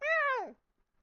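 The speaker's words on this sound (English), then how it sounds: "or you frighten a cat" A frightened cat lets out a single clear meow, about half a second long, which slides downward in pitch and is followed by silence.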